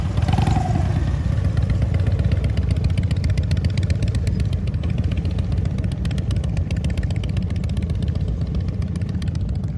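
A motorcycle rides at slow speed through a cone course in New Jersey, its engine running continuously and loudly with a steady low rumble and mechanical clatter throughout.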